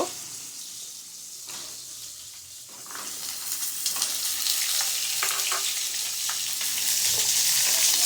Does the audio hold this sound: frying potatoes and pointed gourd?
yes